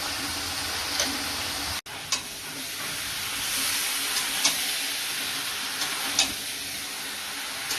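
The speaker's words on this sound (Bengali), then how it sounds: "আলু মাংস একটু ভেজে নেব।" Potatoes and chicken pieces with turmeric and salt fry in oil in a pan for a chicken curry, giving a steady, close hiss of sizzling broken by occasional clicks and scrapes of stirring, with one brief dropout.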